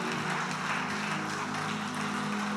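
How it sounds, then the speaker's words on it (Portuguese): Sustained applause fills a church congregation as the faithful clap together, a steady, dense wash of hands at moderate distance with no voices rising above it. "eu quero que você aplaude, porque agora, irmãos, eu vou ungir"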